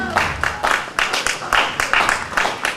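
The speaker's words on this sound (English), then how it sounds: "Clap very well now." At a celebration-of-life gathering, a nearby audience claps in uneven bursts, with bright rhythmic hand claps rising and falling in waves.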